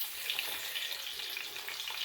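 Fish sizzles and crackles steadily in a hot pan, a continuous close frying hiss with no voices.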